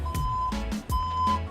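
A vehicle's warning beep repeats in steady pulses, loud and close, with an engine rumbling underneath on a drive through Baja Mexico.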